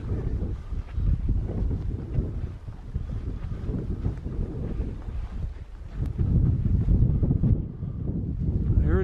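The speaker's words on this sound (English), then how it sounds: "It'll be windy once you get on the top of the dune there. So you can just listen to the wind" Steady, loud wind roars across the top of a sand dune, buffeting the microphone in continuous low rumbling gusts that swell again toward the end, with no voices.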